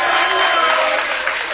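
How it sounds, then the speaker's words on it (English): A studio audience at a sports talk show gives loud, dense, steady applause that lasts the whole stretch without a break. "Can you guys give him a round of applause, please?"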